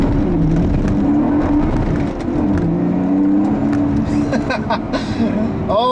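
A 2014 Lotus Evora S sports car accelerates hard out of a corner, its engine note rising and falling through revs with tire and road noise, loud and close, ending in a sharp high squeal.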